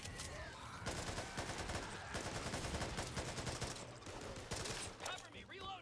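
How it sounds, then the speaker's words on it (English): Sustained rapid gunfire from a minigun in the co-op zombie shooter Back 4 Blood, dense and continuous over several seconds amid other game weapon fire and chaos, with a brief voice underneath. "I hear a minigun, though, so somebody grabbed it"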